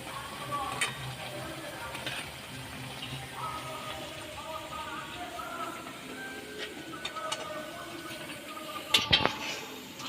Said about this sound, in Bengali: এইভাবে বাকিগুলো আমি একইভাবে ভেজে নেব।